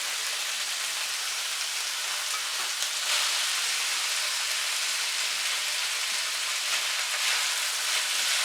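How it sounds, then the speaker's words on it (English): Spaghetti sautéing in a pan for chicken carbonara, a dense, constant sizzle like light rain that holds even and close for the whole stretch, with no talking. "Saute a little bit with spaghetti."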